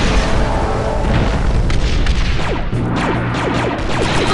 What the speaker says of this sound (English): Charge is armed, sir. Fire in the hole.